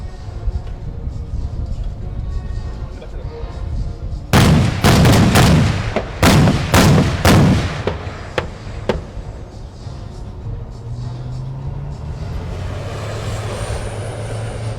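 Military live-fire training exercise with troops and vehicles: a rapid series of loud, sharp gunshots and heavier cannon-like bangs in clusters over a steady engine drone. The shots thin out to a few isolated cracks.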